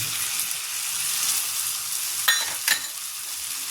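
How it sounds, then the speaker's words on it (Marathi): Tomatoes frying on a high gas flame after cumin, onion, green chilli and garlic, cooked for a dill leaf (shepu) vegetable dish: a steady bright sizzle with two sharp scraping stirs near the end. "टमाटर छान फिरायचं फुल गॅस ठेवायचं फुल गॅस ठेवायचं"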